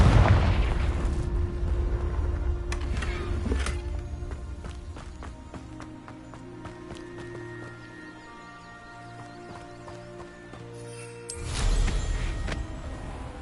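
Confringo fire spell blasts in Hogwarts Legacy burst loudly near the start and again near the end, with a rumbling booming onset each time, separated by a stretch of game music and clicky effects.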